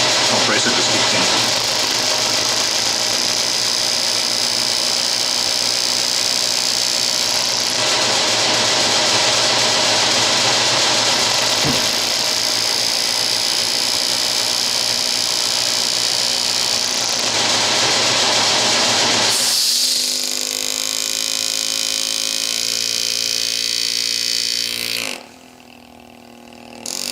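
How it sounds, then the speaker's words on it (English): An air compressor runs loudly and steadily in a workshop, its motor droning with a harsh mechanical hum that continues under a man's speech before cutting out near the end. "that means my compressor just kicked in"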